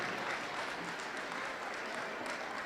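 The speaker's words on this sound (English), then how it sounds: "let's give one more big round of applause" Crowd applause at a Saginaw Chippewa round dance gathering, a steady, fairly quiet wash of clapping and light crowd noise that holds evenly across the moment.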